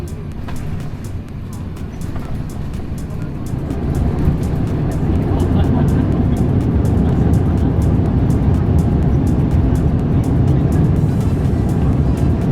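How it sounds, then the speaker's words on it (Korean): Steady loud rumble of an Emirates A380 airliner landing at Hong Kong International Airport, heard from inside the cabin, with the noise swelling and holding as the plane touches down and rolls. "홍콩 국제공항에 착륙합니다"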